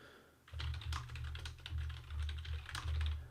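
Someone types steadily on a computer keyboard close to the microphone, with a continuous run of quick key clicks that starts after a brief quiet moment and carries no talking.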